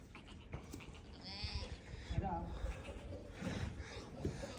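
Sheep bleat close by with a wavering, nasal cry in the middle, among rustling, snorting livestock noises.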